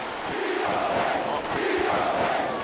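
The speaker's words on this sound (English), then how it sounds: "this crowd getting into it even more here" A wrestling event crowd roars in loud, swelling waves of cheering and shouting, two broad surges rising and falling across the short stretch with no clear voice standing out.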